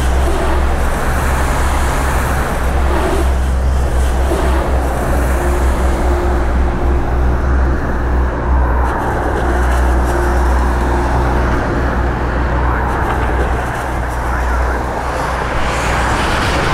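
Cars driving through a large puddle on a flooded Los Angeles freeway during heavy rain, heard as loud, steady traffic roar and tire rush that swells and fades as vehicles pass.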